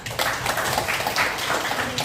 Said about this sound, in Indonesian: Tepuk tangan untuk Aina.